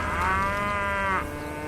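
An ox in the Western shooter Call of Juarez: Gunslinger lets out one long, loud, drawn-out moo that carries on steadily for over a second and then trails off, heard alone with no talking.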